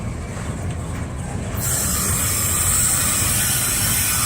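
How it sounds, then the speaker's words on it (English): A long CSX auto rack freight train rolls past a road crossing in LaGrange, Georgia, with a steady, loud close-up rumble of wagons and wheels and occasional metallic squeal, and no voices. "This is how long this train's been."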